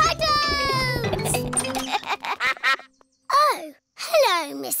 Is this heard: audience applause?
no